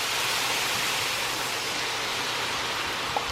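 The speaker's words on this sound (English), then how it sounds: "I'm using a Marsala cooking wine, and I'm going to pour that into the pan." Marsala cooking wine pours into a hot pan holding chicken drippings, producing a loud, steady hiss and sizzle that runs the whole time, close and unbroken.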